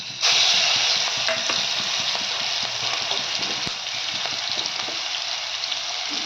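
Cumin and a ground green chili and garlic paste hit hot oil for a val bean pod curry, bursting into a loud, steady sizzle that crackles on continuously with no talking.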